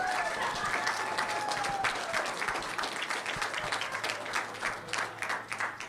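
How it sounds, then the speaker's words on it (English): Audience applauding at a school board of education meeting, a sustained round of clapping filling the room from start to finish, with some voices and a faint tone running underneath. "Let's do one big round of applause for everyone again,"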